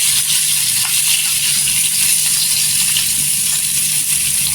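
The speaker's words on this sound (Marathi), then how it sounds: "मस्त कांद्याला पण भाजून घ्यायचं गोल्डन कलरवर" Sliced onions with cashews fry in a pan for a paneer masala gravy, giving a steady, even, close sizzle that carries on throughout with no talking.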